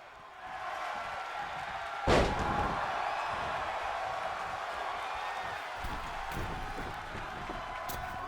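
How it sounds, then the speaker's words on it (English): A single heavy slam from a wrestler's splash in WWE 2K22 lands sharply early on, over a constant background of arena crowd noise that carries on afterward. "CM Punk now dropping a splash onto the back."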